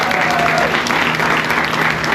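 An audience claps for staff and volunteers at an LGBT network event, dense steady applause filling the room throughout.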